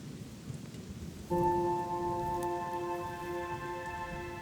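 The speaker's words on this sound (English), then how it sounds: "And as if by clockwork, it's raining." Steady rain hisses throughout in China, and a few sustained tonal hums join partway in, all at moderate level with no talking.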